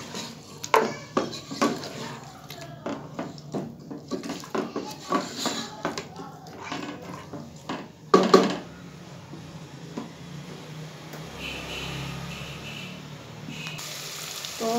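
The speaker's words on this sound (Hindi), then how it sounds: "तो अब मैं इसे अच्छे तरीके से भून लूँगी गोश्त को ऐड करके।" Mutton frying in a pot for degi aloo gosht, a soft sizzle under repeated scraping and clinking of a spoon against the pot in an irregular rhythm, followed by a steadier hiss.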